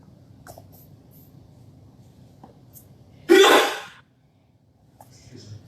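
A single sharp sneeze bursts out close by during an indoor chalk crafting session, loud and brief against an otherwise quiet room with faint handling noises.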